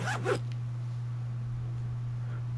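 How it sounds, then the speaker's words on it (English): A jacket zipper in Disco Elysium pulled down in one short, quick rasp at the start, followed by a steady low hum and quiet room tone. "the lieutenant pulls down the zipper of his orange jacket"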